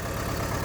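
A Volkswagen Gol car engine with a strange noise idles close by, giving a brief, steady, low mechanical hum with no voices.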